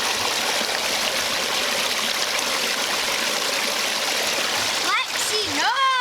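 Water spilling steadily from a newly built garden pond waterfall, a continuous close splashing rush, briefly joined near the end by a high voice.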